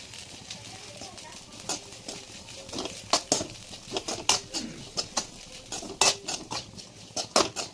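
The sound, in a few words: stirring stir-fried snake gourd with turmeric and chili powder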